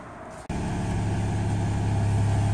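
A car engine fires up after an automatic transmission filter service, a brief catch followed by a steady, close idle hum that carries on alone.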